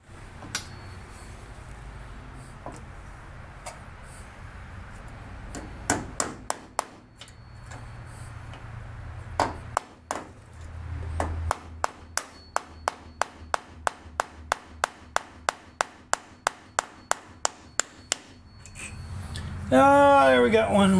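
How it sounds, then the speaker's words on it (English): Little nails are hammered into very hard wood on a 1947 MG TC body rebuild, with a quick run of sharp close taps, scattered blows before it, and talk and faint background noise in between. "we'll just keep hammering our little nails."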